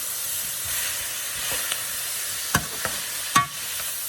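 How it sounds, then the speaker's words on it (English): Pork and vegetables stir-fry in a hot pan with a steady, close sizzling hiss, broken by a few sharp clinks and scrapes of a utensil; no one speaks. "Now you want to mix your pork and your veggies. Let it stir."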